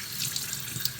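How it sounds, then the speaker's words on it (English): Hot water runs steadily into the drain pipe of a Bosch dishwasher being cleared of clogged debris, a brief, even hiss and splash, close and fairly quiet, with no talk. "put hot water in that"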